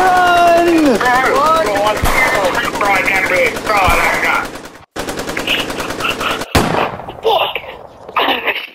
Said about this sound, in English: Oh, they're shooting! They're shooting! They're shooters!